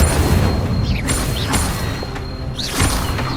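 Incendio fire spell in a Hogwarts Legacy wizard duel, loud whooshing bursts and booms at intervals over a steady rumbling game background, with no talking.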